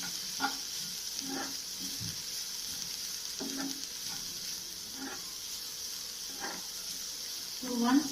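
Momo vegetable stuffing stirred in a pan over a steady frying sizzle, with a spoon scraping at a slow, irregular rhythm and a voice talking briefly over it.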